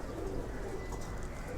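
Healthy loft pigeons coo continuously in a low, rolling burble, close and moderately loud, with no voices over them.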